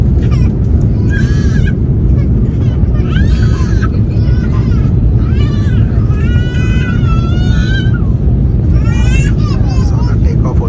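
A steady, loud roar of jet engines fills the cabin during takeoff, with people speaking over the rumble.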